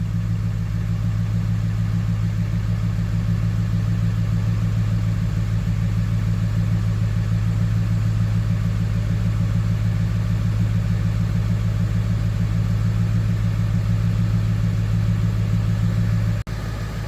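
A Ford 7.3 Powerstroke diesel engine runs at a steady idle, loud and close, with a deep, even drone and a constant rumble throughout.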